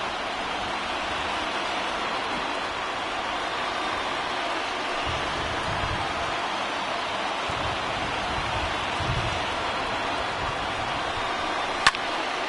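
Steady rain falls on a baseball field in the MLB The Show 20 video game, a constant even hiss with faint low rumbles beneath and one brief click near the end.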